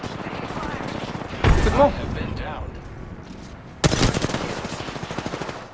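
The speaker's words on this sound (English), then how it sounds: "The enemies are shooting at me." Bursts of automatic weapon fire in an Apex Legends match, two loud sharp volleys standing out over steady rattling shots, with a player speaking briefly.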